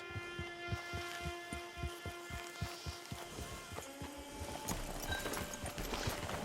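Horse hooves clip-clop in a steady rhythm from a horse in a video game at a camp, with a light backing of game music; the pace breaks up and gives way to busier sound near the end.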